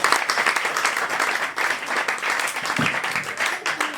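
An audience applauds steadily throughout to acclaim the name of Jesus Christ at a church anniversary celebration, a dense continuous clapping that swells and dips slightly.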